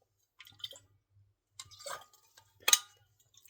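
A person drinking water: faint, close sips, swallows and small liquid drips in short bursts, with a soft knock like a bottle or cup being handled, no talk.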